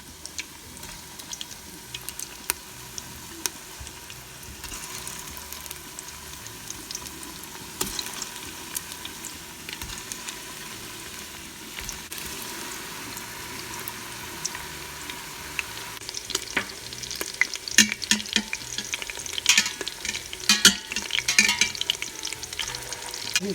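Meatballs frying in hot oil in a pot give a steady, dense sizzle with crackling pops, growing busier and louder near the end as they are turned.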